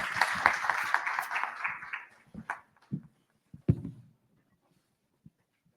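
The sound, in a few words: church congregation applauding to welcome Pastor Imran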